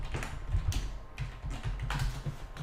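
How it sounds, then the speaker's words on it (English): Rapid, close clicks of fingers typing on a keyboard while entering food into a calorie-counting app, a brief irregular patter of keystrokes with short pauses and no talking. "I can type in semi-skim milk"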